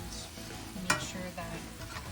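Ground meat for lasagna frying in a pan, a soft continuous sizzle with a sharp scrape of stirring partway through, quiet and close.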